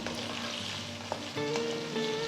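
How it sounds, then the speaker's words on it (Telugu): Small onions and a roughly cut drumstick frying in a pot over a medium flame give a steady, close sizzle, with a spoon stirring and clinking partway through. "పొయ్యిని మీడియం ఫ్లేమ్లో ఉంచి వీటన్నిటిని ఐదు నిమిషాలు వేయించాలి"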